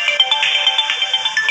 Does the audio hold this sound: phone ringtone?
yes